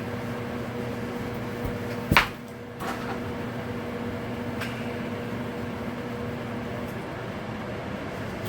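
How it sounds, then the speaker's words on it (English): A faulty microwave oven hums steadily with a low drone and faint whine, broken once by a sharp clunk early on. "This microwave's starting to sound weird."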